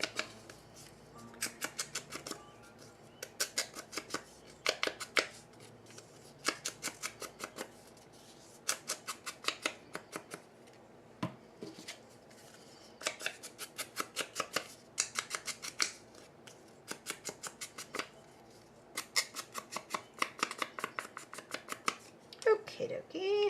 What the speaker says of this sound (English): I just cut out 1 and then I cut it in half